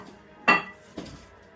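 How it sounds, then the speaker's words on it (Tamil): Ceramic bowls clink as they are handled: two close, bright knocks about half a second apart, the first louder, in a quiet room with no talking. "இது செராமிக்ஸ் பவுல்."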